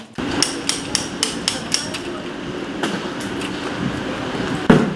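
Hammering during an apartment renovation: a run of sharp, regular blows about every third of a second, then a few scattered knocks over a background of mechanical rumble, fairly close and without talk.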